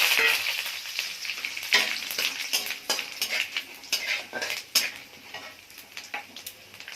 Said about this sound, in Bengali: এখানে হচ্ছে তেজপাতা, গরম মশলা, এলাচ, শুকনো লঙ্কা, দারচিনি আর হচ্ছে সাদা জিরে ফোড়ন দিয়ে দিচ্ছি।